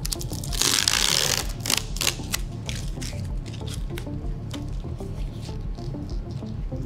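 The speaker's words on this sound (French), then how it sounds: "tu as ce petit outil qui peut t'aider à bien plaquer la fibre dans la géométrie de l'outillage" A small hand tool presses carbon fibre into a shoe plate mould, producing close, soft squishing and pattering rubs with a brief louder rasp near the start followed by repeated light scraping strokes.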